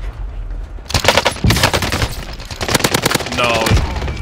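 Gunfire in the World War II–themed shooter Warzone Pacific: rapid bursts of automatic fire and sharp single shots come in clusters across the clip, loud and close, with a brief pause between volleys.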